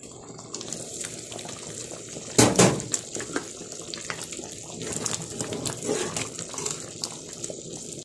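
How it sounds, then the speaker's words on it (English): Soybean soup boiling in a pot, a steady bubbling and watery churn through the whole stretch, with a louder sloshing splash partway through, fairly quiet and without voices. "Allow to boil for 2 minutes."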